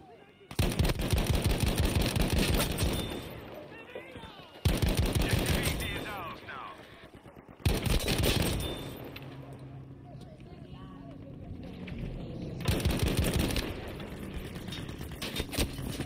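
Rapid automatic gunfire from a gun in the shooter game Battlefield 5, fired in several loud sustained bursts close up with short pauses between, and a voice talking briefly over it.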